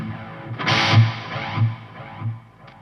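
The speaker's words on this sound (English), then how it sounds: "Let's add the reverb on top." An electric guitar plays through a Sonicake Levitate reverb and delay pedal, a few strummed, distorted chords swelling with a washy reverb tail that fades out.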